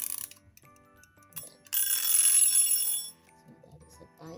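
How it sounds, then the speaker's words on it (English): Toy timer ringing with a bright, rapid metallic bell trill lasting just over a second, close and clear, with someone speaking quietly before and after. "This is a timer."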